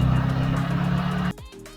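A Proton Satria 1.3 with a jerking, misfiring engine, suspected bad spark plug leads, runs roughly with an uneven low rumble close by, then cuts out abruptly partway through, leaving a short fading tail.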